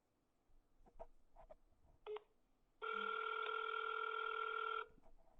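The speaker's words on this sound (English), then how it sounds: "And I will call the number." A phone number is dialed on a telephone, with a few brief keypad beeps followed by a steady, loud two-second ringing or dial tone, then quiet, with soft clicks around it.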